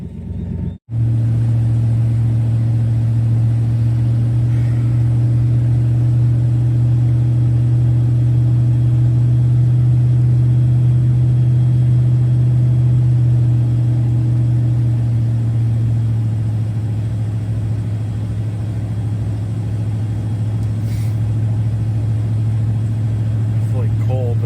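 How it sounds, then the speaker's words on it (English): Pickup truck engine idling while warming up in 10-degree Fahrenheit snowy weather, a steady low rumble held close and loud for the whole stretch after a brief click at the start. "Let the truck warm up for a little bit"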